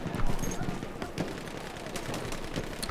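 Battlefield 1 gunfire: scattered rapid shots and crackling reports at moderate distance, mixed with battlefield noise, fairly continuous throughout.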